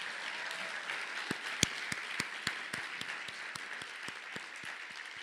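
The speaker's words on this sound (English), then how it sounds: "Let's give them all as a group one more round of applause" Quiet, sustained group applause from an audience at an alumni achievement awards ceremony honouring recipients, a soft wash of clapping with scattered individual claps standing out, heard at some distance.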